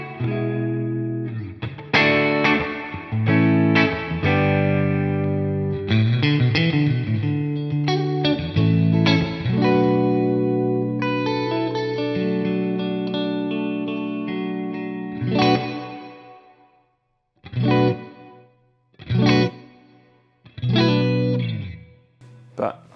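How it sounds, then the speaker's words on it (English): Guitar played through the reverb of a Bad Cat Hot Cat 50 amp, clean chords and single notes ringing with lingering wash and echo tails, followed by short sparse strums that decay into reverberant space. "there's an example of what the reverb does"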